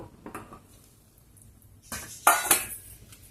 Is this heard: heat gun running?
no